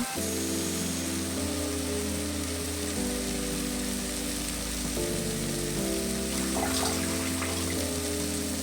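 Peas and tomato frying in a pan for a soybean and field-bean vegetable pulao, a steady close sizzle that hisses on without a break, with some low tonal hum running underneath.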